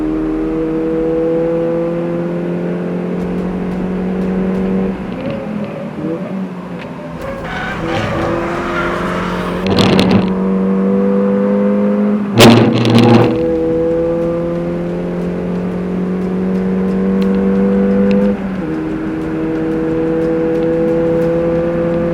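A small front-wheel-drive car on a racing circuit, its engine droning steadily near and loud as it flicks through chicanes, with revs dipping and climbing and brief tyre noise around each change of direction.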